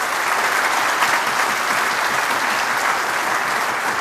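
A television studio audience applauds steadily and densely throughout, a loud, even wash of many hands clapping with no talking over it.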